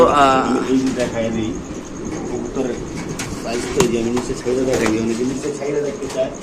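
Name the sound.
pigeons cooing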